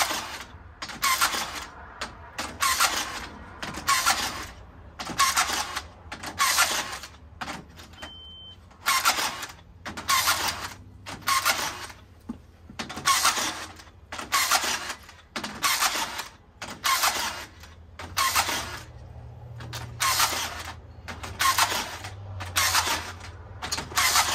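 Steel wire ties being twisted around rebar grid crossings with a tying tool, a rapid series of repeated ratcheting spins and snips, each burst about a second long, steady and close with no talk.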